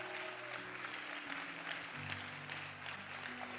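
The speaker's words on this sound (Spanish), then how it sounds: "denle un aplauso fuerte a Jesús" A church congregation claps loudly for Jesus at a service, dense applause running continuously under sustained organ or keyboard chords that shift in pitch.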